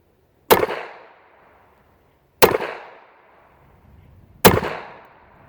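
Three sharp, loud shots from a used Makarov PM 9mm pistol ring out about two seconds apart, each cracking hard and trailing off in a short echo.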